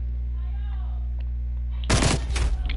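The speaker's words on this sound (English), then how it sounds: "Enemy sniper shooting." Enemy sniper gunfire in Call of Duty Cold War: quiet game ambience, then a sudden loud broadband shot near the end, with a sharp crack and a rumbling tail.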